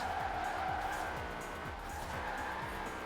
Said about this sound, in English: So I'm pulling the handbrake, I'm getting it a bit sideways.